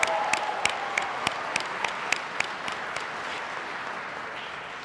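Applause at a police constable badge ceremony, a broad wash of clapping from an audience, with sharp, distinct claps standing out near the start and the sound slowly thinning away.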